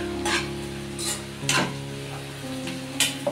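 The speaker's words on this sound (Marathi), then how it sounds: "चांगले मी तेलामध्ये परतून घेते." Ground chili and peanut paste fries in hot oil in a pan, giving a steady close sizzle with a few louder stirring scrapes and bursts spread across the few seconds.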